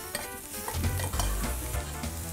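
Abalone pan-frying over medium-low heat makes a close, crackling sizzle with stirring scrapes and a few louder pops, steady through the short stretch.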